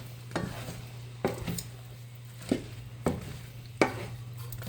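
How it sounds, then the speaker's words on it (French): Food mixture being stirred in a pan during buffet-style Chinese cooking, a utensil scraping and clacking against the pan in about five distinct strokes over a low steady hum, close and fairly quiet. "Fait qu'on mélange tout ça."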